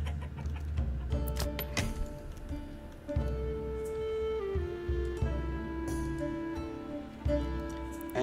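Chickens in the medieval village-building game Manor Lords cluck through a steady bed of game music, their calls fairly clear but sharing the space with the score.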